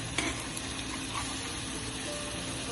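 Cajun suya-seasoned salmon sizzles steadily as it fries in a pan, a dense, even crackle that holds for the whole stretch, close and moderately loud, with a brief clatter near the start.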